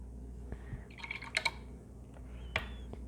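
A paintbrush from an acrylic painting session is rinsed in a container of water, giving a few faint, brief drips and light clinks and swishes over a quiet background.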